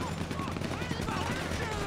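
Heavy machine gun fire in the video game GTA V: a dense, continuous stream of rapid gunshots rattling throughout, loud and close, with game noise mixed in.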